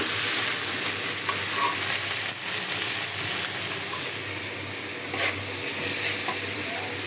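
Shrimp seasoned with salt and turmeric frying in a pot with onion, a steady close sizzle with faint stirring scrapes and no talk.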